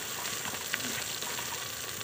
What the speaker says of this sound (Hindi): और ये लहसुन भी हम इसमें डाल देते हैं